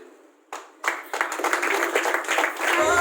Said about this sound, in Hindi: जोरदार ताली मिस पूनम